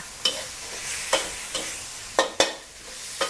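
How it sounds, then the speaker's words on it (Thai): Squid stir-fried in a hot pan: a spatula scrapes and tosses it in repeated sharp strokes over a continuous sizzle, with about six distinct clatters spaced unevenly. "ทีนี้ผัดให้ปลาหมึกสุก แต่ใช้เวลาไม่นานนะ"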